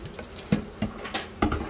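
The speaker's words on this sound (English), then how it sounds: "you're going to rinse it off with cold water" Cold tap water runs over a prime roast that has been rubbed with salt and apple cider vinegar, with several short splashing bursts as the meat is rinsed, close and fairly quiet.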